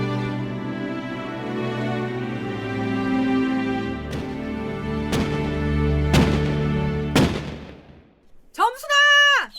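Dam construction blasting booms out as four sharp, evenly spaced bangs about a second apart over a sustained tonal background, followed by a voice calling out.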